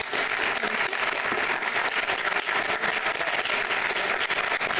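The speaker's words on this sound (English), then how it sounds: "Another applause," A conference audience applauds after a talk, giving dense, steady clapping that stays even throughout with no voices over it.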